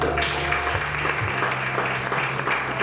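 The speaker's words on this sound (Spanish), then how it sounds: "Aplauda al Cristo de la gloria." A church congregation applauds during a Spanish-language sermon, with a steady wash of clapping throughout and a low hum beneath.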